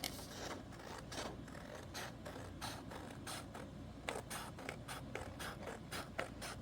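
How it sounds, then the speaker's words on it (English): Scissors snip through paper pages for a junk journal, a quick irregular series of close, crisp cuts and scrapes with short pauses between them, and no voice. "Hopefully you can't hear my scissors too much."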